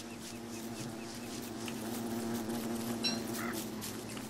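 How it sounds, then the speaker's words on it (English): Bees buzzing in the video game Don't Starve Together, a steady low insect drone with a faint tonal hum, continuous and moderately quiet with small game sounds scattered over it. "These bees are making me nervous."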